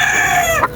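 A single loud, close rooster crow, one sustained call lasting under a second and ending abruptly, with nothing else heard alongside.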